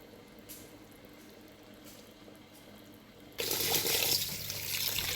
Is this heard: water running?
yes